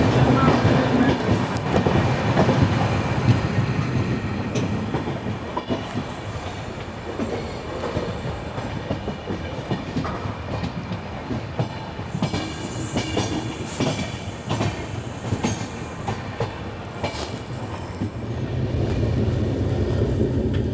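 The Sachkhand SF Express rolls from Amritsar toward Nanded with a continuous rumble and rhythmic clickety-clack of wheels, swelling and easing, with occasional squealing and faint voices in the background.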